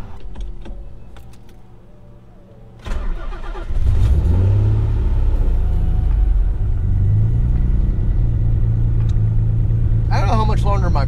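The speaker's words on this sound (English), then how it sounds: "That Wastegate opens up, it is loud." A built twin-turbo Nissan 300ZX pulls hard under acceleration, its wastegates opening with a loud rush over a rising, booming engine note. The car is quiet at first, then surges after about three seconds and stays loud, with a voice speaking over it.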